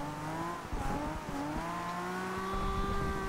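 A 1969 Nissan Fairlady Z drifts in Forza Horizon 2, its engine holding a steady, wavering drone with shifting pitch and faint tire noise, fairly close and continuous with no talk.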